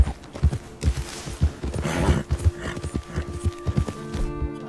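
Horse hooves clip-clop in steady rhythm on a trail in Red Dead Redemption 2, close and fairly loud, with occasional snorts over a soft game background.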